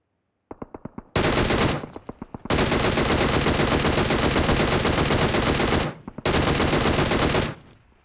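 Automatic gunfire in PUBG Mobile starts as a few single shots, then becomes long, loud sustained bursts of rapid fire with short pauses between them.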